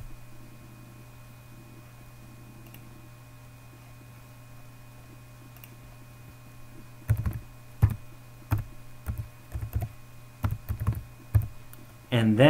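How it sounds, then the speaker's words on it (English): Keys clatter on a computer keyboard as an IP address is entered while setting up an FTP server on Windows Server 2012, a quiet hum at first, then a burst of about a dozen close, uneven clicks. "what you will do right here is type that"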